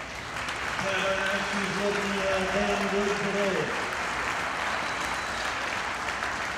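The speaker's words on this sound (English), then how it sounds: "Give her a round of applause." Crowd applause at a Holstein cattle championship show, a steady spread of clapping across the arena at moderate distance, with someone speaking briefly over it early on.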